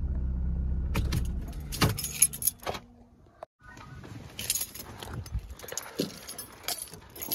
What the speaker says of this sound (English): Allotment keys.